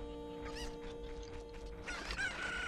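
Chickens cluck and squawk repeatedly in the video game The Legend of Zelda: Ocarina of Time, several short bursts over steady background game music with a sustained tone, with no talking.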